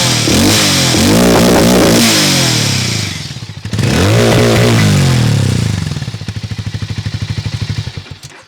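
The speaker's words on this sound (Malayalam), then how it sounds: "എക്സോസ് നോട്ട് നമുക്കൊന്ന് കേട്ട് നോക്കാം." A Hero Mavrick 440 motorcycle's exhaust revs loudly up and down twice, then settles into a lumpy, thumping idle that fades near the end.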